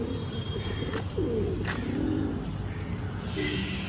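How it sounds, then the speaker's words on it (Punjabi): Pigeons back from flight coo in a few short, rolling calls at moderate distance over steady background noise, with no voices. "ਬਾਕੀ ਵੀ ਆ ਗਏ ਆ ਕਬੂਤਰ ਜਿਹੜੇ ਉਡਾਏ ਸੀਗੇ"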